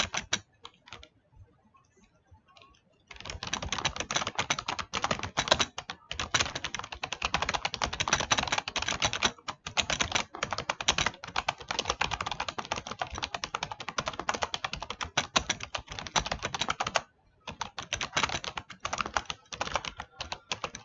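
Rapid typing on a computer keyboard as code is written for a LeetCode problem, with dense continuous key clatter after a quiet start and brief pauses between bursts, close and alone.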